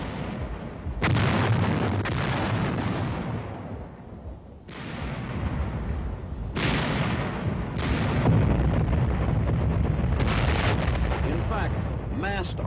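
Massed artillery fire in archival war footage, heard as loud, sustained booming blasts and rumbling bursts that come in repeated waves, with a voice talking over parts of it.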